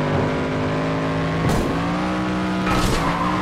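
A rear-engined car in the racing video game FlatOut 2 slides with sustained tire squeal over a steady engine drone, with two sharper skid bursts partway through, loud and close.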